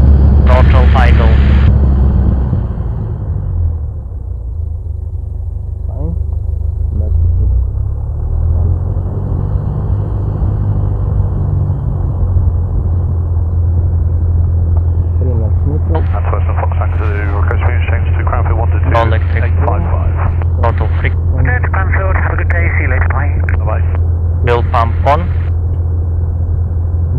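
A light training aircraft's engine at idle throttle during low-flying circuit practice, a loud, steady low drone throughout, with a brief louder surge at the start and radio chatter and voices over it in the second half.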